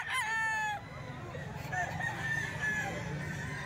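Roosters crow among many chickens at a crowded gamefowl sale at a grotto, one clear crow up close at the start, then overlapping crows and clucks further off over a steady crowd murmur.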